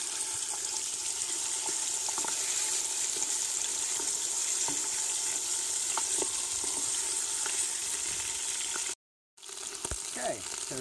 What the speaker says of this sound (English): Okay, so we've got our meat in there nicely browned.